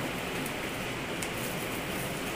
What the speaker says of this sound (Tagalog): tag-ulan dito sa amin, napaka-ulan